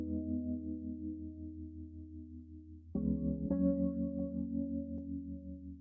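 A sustained synth keys melody for a hip-hop beat, steady chords with a tonal change midway, clean and moderately quiet with no other instruments or voices.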